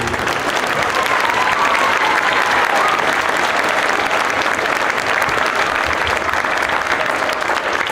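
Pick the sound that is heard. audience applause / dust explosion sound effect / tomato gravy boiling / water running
audience applause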